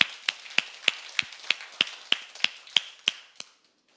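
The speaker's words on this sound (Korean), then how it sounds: "박수 한번 쳐줄까요?" Evenly spaced claps in a church service, about a dozen crisp hand claps at a steady, quick beat, close and fairly loud, stopping abruptly.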